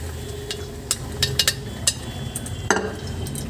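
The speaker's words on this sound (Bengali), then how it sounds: "এবার আমি মটরটা দিয়ে দেব।" Peas tip into a pan of frying spice mix, setting off clinks and light scraping stirs against the pan over a soft steady sizzle, with a few brighter metallic taps scattered throughout.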